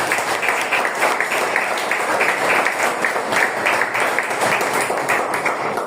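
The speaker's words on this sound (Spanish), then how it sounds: "Dale palmas al Señor, iglesia." A church congregation claps together in praise, a steady, fairly rhythmic patter of many hands in a worship hall, sustained and even for several seconds without a break.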